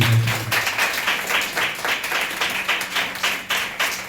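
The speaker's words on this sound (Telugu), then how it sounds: "చప్పట్లు కొట్టి" A congregation at a church service claps in a loose, rhythmic burst, the claps pulsing in quick repeated waves at moderate volume with no talking over them.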